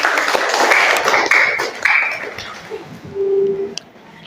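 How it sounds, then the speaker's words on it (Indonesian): A classroom audience in Indonesia applauds after a student presentation, with steady clapping lasting several seconds before fading out. "Ya, oke, tepuk tangan."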